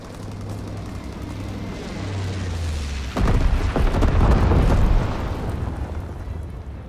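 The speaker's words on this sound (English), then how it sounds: "Enemy bomber, incendiary bombs incoming." Incendiary bombs dropped by an enemy bomber explode in Call of Duty: WWII, a deep rumbling blast rolling in over a low drone, swelling loud for a couple of seconds before easing back into a steady roar.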